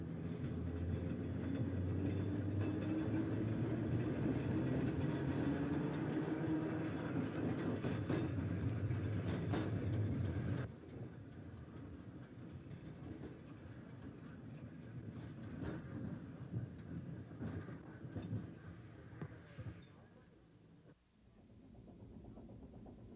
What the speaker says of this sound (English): The Illinois Terminal Railroad ran its trolleys across the Mississippi River on the McKinley Bridge to serve Illinois suburbs